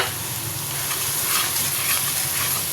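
Chicken pieces and tomatoes sizzle in a pan while being stirred and fried, a steady close hiss with soft scraping stirs, no voices.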